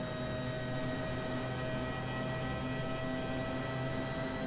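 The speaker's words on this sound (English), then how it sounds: "You can hear the scream echoing off the wall of the engine too." A McLaren F1 race car engine in the rFactor 2 racing game holds a steady, loud, high-pitched tonal scream with no gear changes or other sounds.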